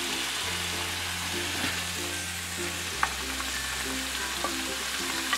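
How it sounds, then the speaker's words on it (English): Vegetable stir fry sizzling in olive oil in a pan, a steady broadband crackle with a low hum underneath and a few sharp pops standing out near the end. "this is just a basic stir fry, very, very easy. Just put it on the pan."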